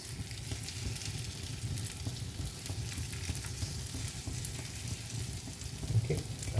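Vegetable takoyaki batter sizzles steadily in a hot pan as the balls are turned, a close, even frying crackle holding throughout with no talk.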